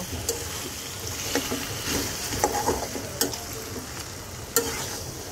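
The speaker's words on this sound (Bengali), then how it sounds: "এটাকে একটু ভাজা ভাজা করব আরও বেশিক্ষণ মশলার সাথে" A katla fish head fries with spices in a pan, sizzling softly and steadily, while a spoon stirs and scrapes it with a few sharp knocks against the pan.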